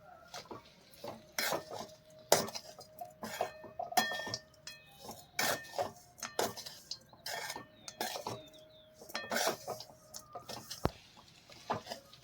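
A spoon clinks and scrapes against a metal pan while stirring sabudana khichdi with lemon juice, sugar and spices, in a series of irregular, fairly close clattering strokes.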